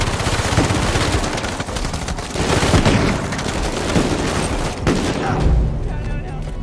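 Dense gunfire from the video game Uncharted 4 on PC, with rapid bursts and booming shots rolling on almost without pause. Someone talks over the shooting.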